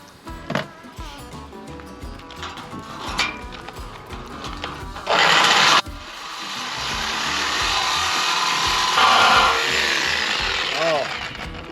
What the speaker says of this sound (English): This is an old Harbor Freight Sawzall.